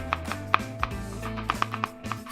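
A knife mincing garlic cloves on a cutting board makes quick, crisp taps in an uneven rhythm, close and clear with no talk.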